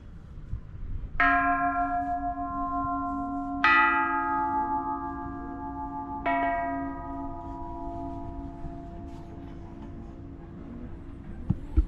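Three resonant temple bell strikes in Thailand, spaced a few seconds apart, each ringing out and slowly decaying, with faint ticking in the quiet background.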